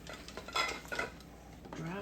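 Glass canning jars of tomatoes being lowered into a pot for a boiling water bath, making a few quiet clinks and rattles of glass and metal at close range.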